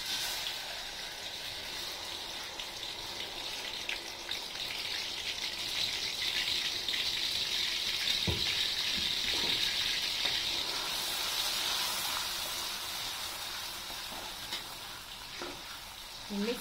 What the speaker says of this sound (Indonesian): sekarang kita akan menumis bumbunya